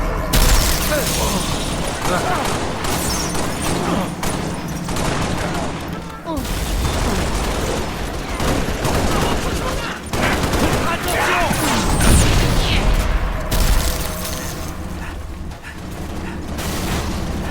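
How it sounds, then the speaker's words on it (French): Enemy gunfire in the video game Halo Reach: dense, continuous volleys of weapon fire and explosive booms over a loud battle din, with radio-style voices talking at times. "L'ennemi me tire dessus."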